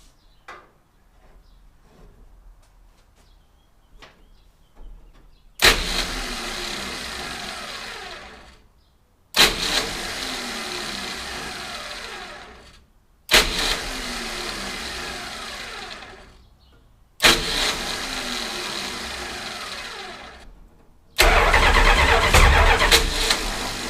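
A junkyard 1969 Dodge Charger dirt track car with a 440 engine cranks in five loud, separate bursts of a few seconds each, split by pauses. The last burst is the roughest and loudest.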